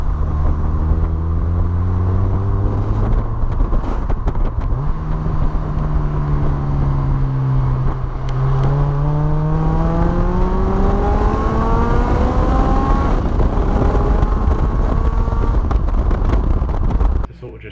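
A Honda Integra Type R DC5's engine loud and close from inside the cabin while driving, revving up through the gears with rising harmonic whine and brief drops at shifts, steady and continuous throughout.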